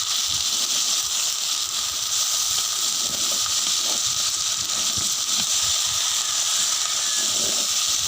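Okra cut into large pieces sizzles while stir-fried in a pan during rustic village cooking, giving a steady, loud hiss with faint scraping that runs throughout without speech.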